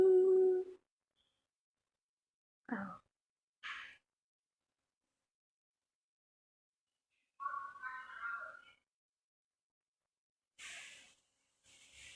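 Faint, sparse whimpers and short whiny cries from a dog, separated by long silences, with a brief low howl-like sound at the start.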